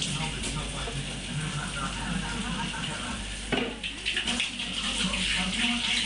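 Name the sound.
washing hands under running water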